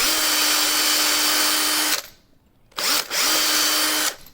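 Close power drill whirring steadily for two seconds while drilling pinning holes in a Warlord Titan model, stopping, then a brief blip and another short burst of drilling.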